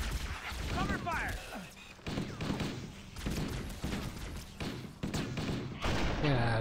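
Bursts of gunfire crackle through the combat of Halo: Combat Evolved on PC, with allied marines fighting nearby; repeated shots and thumps sit under and between a player's voice and in-game chatter.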